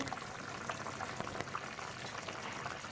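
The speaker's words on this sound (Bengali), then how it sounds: "এখানে কলবাদাম মিশিয়ে টকবক করে ফুটছে ঝোল" Thick duck-egg curry bubbles and pops steadily in a pot, heard up close over a constant soft hiss.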